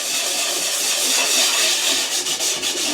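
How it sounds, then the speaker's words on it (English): Sandpaper rubs steadily across a ceramic kiln shelf being restored, a continuous close, fairly loud abrasive hiss with faint rhythmic strokes toward the end and no talking. "I could take this sandpaper,"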